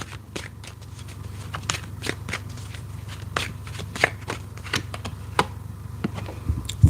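Tarot cards being shuffled by hand, a close series of crisp riffling flicks and soft slaps in irregular bursts over a low steady hum.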